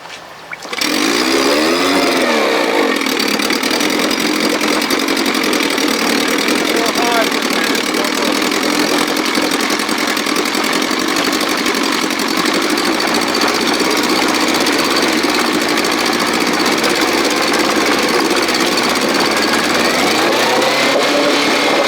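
1957 Sea King 5 hp outboard motor running close by, a loud steady buzzing drone after a brief start, with slight wavering in pitch as it runs lean, voices talking underneath.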